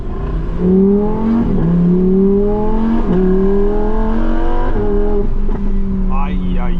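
A 2025 Lamborghini Huracan Tecnica V10 is heard from inside the cabin, pulling away with loud, full engine tones that climb in pitch and drop back at each shift, several times in a row.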